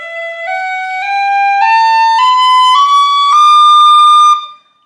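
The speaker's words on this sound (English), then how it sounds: "I can play a continuous flow of air as I'm moving my fingers, and that's called slurring" A whistle plays a rising run of slurred notes on one unbroken breath, each pitch gliding cleanly into the next, loud and close with a pure tone and no pauses until it stops.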